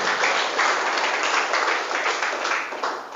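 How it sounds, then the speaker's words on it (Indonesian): Audience applause at a police station gathering, a dense steady wash of clapping that fills the whole stretch, holding loud and even before tapering slightly at the end. "Tepuk tangan dulu."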